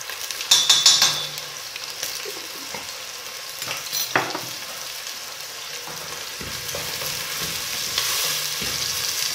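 Courgette and potato pieces sauté in a pot with a steady, close sizzle, joined early on by a few clinks and scrapes of a spoon stirring against the metal.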